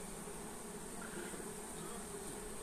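Honeybees buzz steadily at a hive, a dense continuous drone of many insects close by with no pauses.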